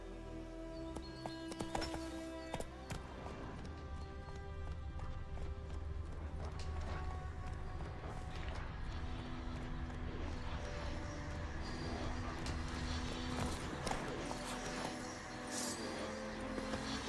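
Galloping hoofbeats of the horse Roach in The Witcher 3: Wild Hunt, a steady rapid clip-clop rhythm running continuously under dense game music and ambience, fairly loud and close.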